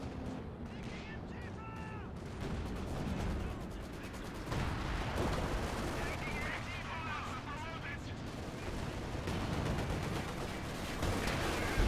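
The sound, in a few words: Stuka dive bomber fire in Company of Heroes 2 video game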